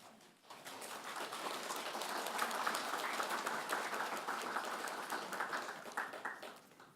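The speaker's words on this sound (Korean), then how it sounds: "설교하고서 박수 받기는 처음입니다." A church congregation bursts into sustained applause after a Sunday sermon, a steady dense wash of clapping that swells and holds for several seconds before tapering off.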